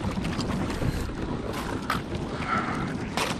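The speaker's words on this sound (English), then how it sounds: "I gotta talk louder because we're going over ice." A Sport Fisher kayak grinds and scrapes over ice in a continuous, rough, close-up wash of noise with wind buffeting the microphone.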